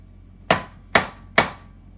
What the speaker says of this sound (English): This, you're gonna need to hammer flat.